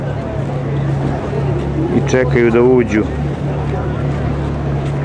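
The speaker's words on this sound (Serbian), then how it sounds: "Ovo, čuju se motori Ferrarija." Ferrari cars idle in a queue waiting to enter an enclosure in Milan, a steady low engine rumble running throughout beneath someone talking close by.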